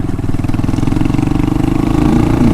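A TMX motorcycle engine runs loud and close on a mountain ride in Tarlac, a steady throbbing pulse that rises slightly in pitch toward the end.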